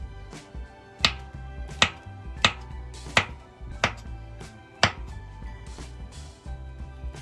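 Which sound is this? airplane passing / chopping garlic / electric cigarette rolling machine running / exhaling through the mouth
chopping garlic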